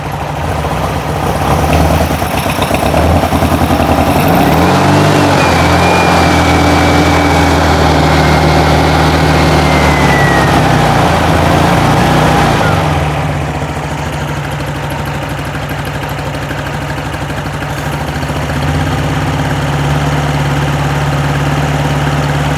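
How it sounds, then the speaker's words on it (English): A 1972 Volkswagen Beetle with a dual-carburetor engine idles steadily up close, a loud continuous droning rumble with a whine that fades partway through, then settling into a quieter, even idle. "Oh, it's idling."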